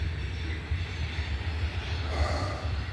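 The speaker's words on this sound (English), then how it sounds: "We got the train coming, the Abbeville switcher." The Abbeville switcher train passes by, giving a steady low rumble and rolling clatter of rail cars with a faint hiss, fairly loud and continuous over a few seconds, without talk.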